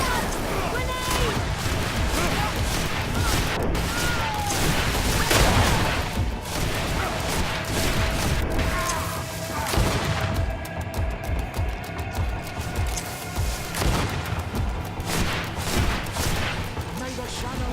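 Combat in the fantasy game GreedFall with a grenade going off, layered with rapid popping gunfire and crashing bursts throughout, loud and dense, with voices calling out over the fight.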